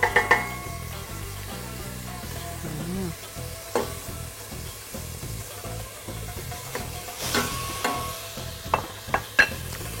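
Onions and meat frying in a pan for an Algerian dish, a soft steady sizzle with scraping stirs and light utensil clinks against the pan at irregular intervals.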